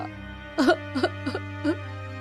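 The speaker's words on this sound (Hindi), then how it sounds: "ये बहू की आवाज है। रो क्यों रही है इतना?" A woman sobs in four short, strained bursts over a steady low hum, each cry breaking and catching.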